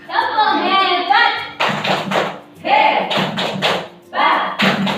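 A rhythmic clapping cheer, 'tepuk hebat', with patterned claps and thumps in short bursts between chanted voices, in a teaching setting.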